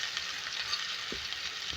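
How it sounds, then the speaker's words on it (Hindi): Three medium onions fry in oil for a bottle gourd and chickpea lentil dish, a soft steady sizzle with faint crackles and the occasional low stir, close and without talk. "इसको फ्राई करेंगे।"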